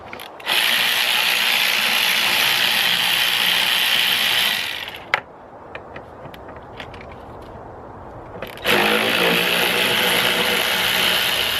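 Five 5mm Allen screws being undone on the air filter housing of a BMW M47/M57 engine, heard as loud, steady mechanical whirring in two long bursts with sparse clicks and ratchet-like ticks in the quieter gap between them.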